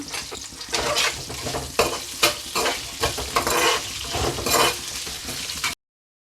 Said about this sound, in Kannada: ಬೆಳ್ಳುಳ್ಳಿ ಹಾಕೊಳ್ಳೋಣ.